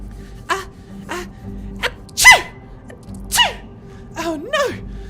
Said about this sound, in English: I hope the mouthless guards didn't hear me sneeze